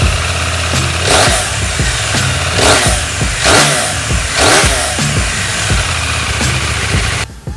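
A KTM 890 Duke R motorcycle engine idles close by with a lumpy, loud throb, then blips through several sharp revs in quick succession before dropping back, with no talking.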